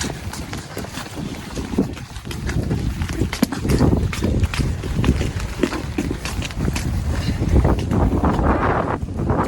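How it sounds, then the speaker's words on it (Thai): Steady, loud wind buffeting the microphone during rain, with broadband rumbling gusts throughout and no clear talk. "ลมพัดแรงด้วยนะ"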